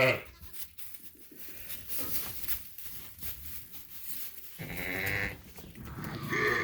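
A ewe in a farm pen bleats a few times, loud and close, between stretches of quieter barnyard ambience.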